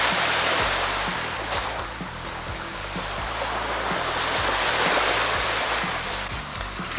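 Waves wash onto a sandy beach on a warm, nearly empty shore in Bulgaria, a continuous soft roar of surf with gentle swells, steady and moderately distant, no voices.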